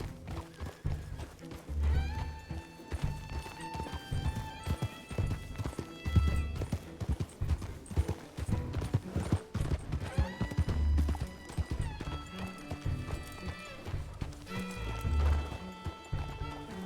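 A horse in RedM, the Red Dead roleplay game, clip-clops steadily at close range, its rhythmic hoofbeats continuing throughout with an occasional whinny over layered game sounds.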